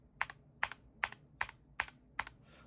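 Six evenly spaced keystrokes sound on a DrunkDeer A75 keyboard, each a sharp close click with a short bright ring after it, quiet and alone.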